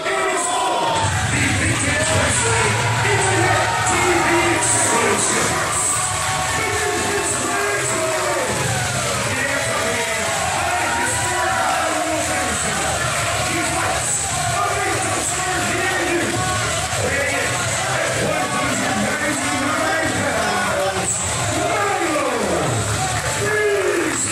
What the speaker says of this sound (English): The crowd is alive. They are loud.